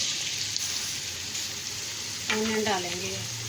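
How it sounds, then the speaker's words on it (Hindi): Onions dropped into a pot of hot oil for a mixed vegetable kadhi, a loud steady sizzle and crackle that swells as they hit, with someone speaking over it. "ऑयल गर्म थी वियो है, हिनमें मां ऑनियन विझा पई।"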